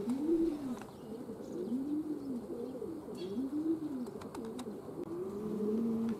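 Racing pigeons cooing at a loft during training, repeated soft rolling coos in a slow rhythm, close and clear, with faint chirps and a light breeze in the background.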